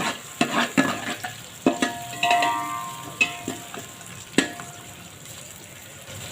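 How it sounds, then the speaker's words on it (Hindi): Sliced onions fry and get stirred in ghee in a pan for dagi chana pulao, the steady sizzle broken by sharp spatula scrapes and clinks at irregular intervals, close and moderately loud with no talking. "प्याज को golden brown, light golden brown होने तक फ्राई करना है।"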